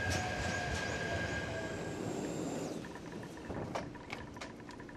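A commuter train in Nagano, Japan runs along the rails with a steady rumble and a faint high wheel squeal that fades, then light clicks and knocks from inside the carriage, heard from onboard.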